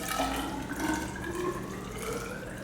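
Water pours into a graduated cylinder for a sugar-content measurement, a continuous splashing, gurgling flow that stays close and fairly loud throughout with no talking.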